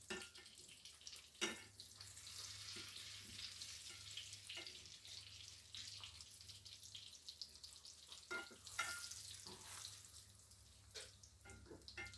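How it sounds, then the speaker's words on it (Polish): Mushroom and cheese croquettes in egg and breadcrumbs frying in hot oil in a pan, giving a steady close sizzle with scattered crackles and pops and occasional clinks, no voices. "Smażymy na złoty kolor."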